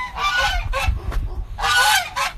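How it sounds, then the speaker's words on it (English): Several geese honk in loud, overlapping bursts, two main clusters of nasal calls with a short gap between them, close by and with no talking. "can you guys hear all those animals? I'm gonna show you these geese real quick."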